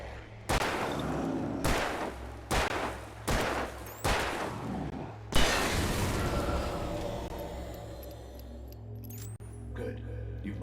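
Gunfire in Alan Wake Remastered: four loud, evenly spaced shots are followed by a heavier blast whose echo slowly fades into a quiet ambient tail.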